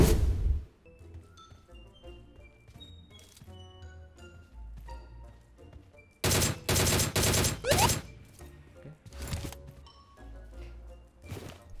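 Gunfire in PUBG Mobile: scattered single shots early on, then loud rapid automatic bursts in the middle and a few more shots after, over quiet in-game background tones.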